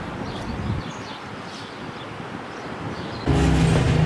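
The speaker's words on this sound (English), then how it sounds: "Looks like the Hocking Valley Scenic Railroad is moving" A diesel train of the Hocking Valley Scenic Railroad rumbles past outdoors under wind and rustling, then a louder steady engine drone with a low hum cuts in near the end.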